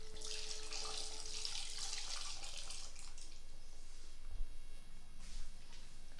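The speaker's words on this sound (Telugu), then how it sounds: "ఇదిగోండి ఈ విధంగా వాటర్ అది యాడ్ చేసుకున్నాను పులుపుకి ఇదైనట్టు" Water is poured into a pot of cooked dal with tamarind juice, a steady close splash for a couple of seconds that fades to a quieter trickle with a few faint knocks.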